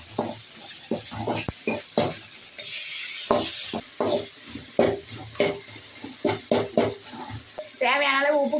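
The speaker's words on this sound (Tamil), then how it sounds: "தேவையான அளவு உப்பு போட்டு நல்லா தக்காளி வதக்கிங்க." Tomatoes sauté with salt in a pan for a goat meat dish, soft sizzling broken by repeated stirring scrapes and clinks, with someone talking over it.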